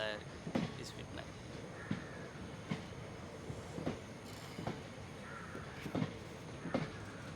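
A slow-moving local train rolls along the rails with soft rhythmic clacks and a steady rumble, while crows caw in the background and someone talks over it.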